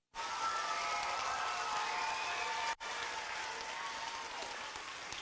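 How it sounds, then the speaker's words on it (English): A school event audience applauds after a student's performance at Meadow Lane School, a sustained, even wash of clapping from a crowd, moderately quiet, with a brief dropout partway through before it continues. "Give a big round of applause to Emma."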